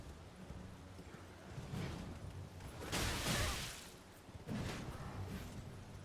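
A horse gallops in Elden Ring with soft, rhythmic hoofbeats and occasional swells of movement noise at a moderate, fairly faint level, with no talking over them.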